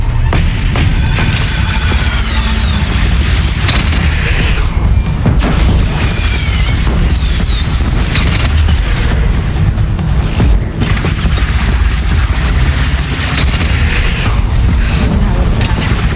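Heavy cannon fire in the video game Horizon Zero Dawn, a loud continuous barrage of deep booms and crashing impacts filling the whole stretch, mixed with game effects and occasional voices.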